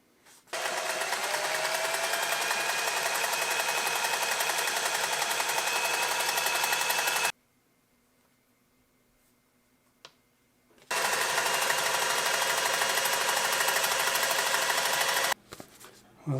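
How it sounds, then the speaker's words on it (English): A Singer 403A sewing machine runs a zigzag stitch in loud, fast, continuous bursts of whirring and clattering, with a pause of several seconds between two long runs and a short burst at the end. "But we're doing a zigzag on there."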